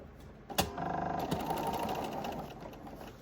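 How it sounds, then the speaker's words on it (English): A sewing machine stitches fabric pieces together, starting with a sharp click and then running in a steady, close, humming whir with a fast mechanical patter that continues to the end. "I'm going to take it over to the sewing machine and we're going to sew them together"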